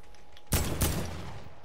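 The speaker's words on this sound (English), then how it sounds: "Why are you shooting me?" Fortnite gunfire breaks out in two quick, loud bursts close together, then trails off over steady game background noise.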